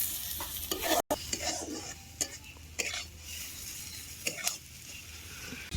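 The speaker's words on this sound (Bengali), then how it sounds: "ভালো করে এটাকে নাড়বো এবার ভালো করে পেঁয়াজটাকে ভেজে নেবো" Onion frying in a pan for a mutton fat curry, with a steady close sizzle broken by a brief silent gap and scattered scrapes of a spoon stirring against the pan.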